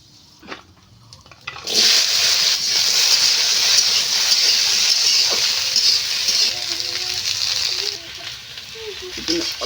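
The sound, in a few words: nigella seeds tempering sizzling in hot oil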